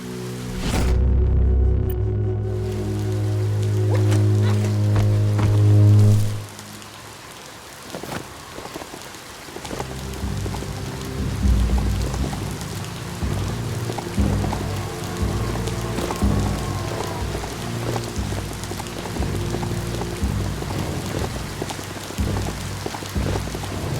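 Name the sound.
rain falling in the video game Biomutant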